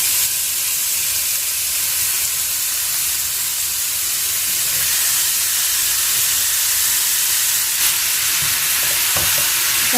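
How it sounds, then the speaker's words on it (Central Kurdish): Loud, continuous sizzling and hissing of chicken breast frying in a hot pan, with occasional scraping clicks near the end. "ئێستا ئەوە گۆشتەکەمانە سینگی مریشکەکە ئەو تاوەش گەرمە دەیخێنە ناو"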